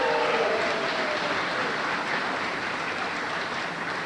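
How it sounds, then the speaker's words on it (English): Applause from a banquet audience at an annual chamber of commerce dinner and awards evening, a dense, steady wash of many hands clapping that carries on throughout with a faint hint of talk early on. "How about a big round of applause for our corporate sponsors?"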